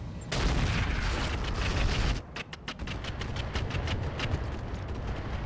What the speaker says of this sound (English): Our artillery didn't get a ton done there